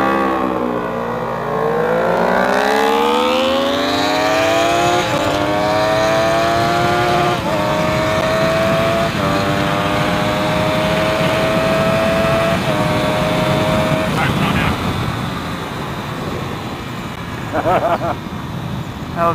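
A car launched hard in a street race from a standing start, engine revving loud and close and climbing through rising pitch with gear shifts, the roar holding strong before easing off.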